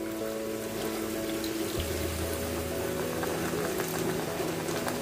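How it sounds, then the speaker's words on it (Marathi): Hot water pours into a simmering egg masala gravy in a pan, a steady running, splashing wash of water throughout, joined by a low hum partway through. "गरम पाणी घालते."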